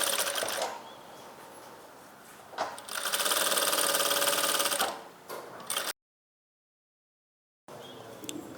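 A sewing machine stitches the edge of a fabric pouch in a close, steady mechanical whir, running in short bursts and one long stretch of stitching, then cutting off abruptly before starting again.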